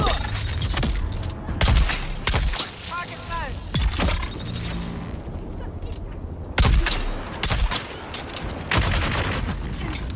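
Gunfire crackles in Dune Awakening, bursts of rapid close shots and impacts during a combat fight, with a player talking over the shooting.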